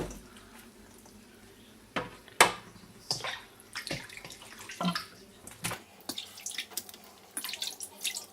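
Salted cabbage being rinsed for kimchi, with water running and splashing in a sink, punctuated by irregular sloshes and knocks as the leaves are handled, fairly close and moderately loud, with no talking.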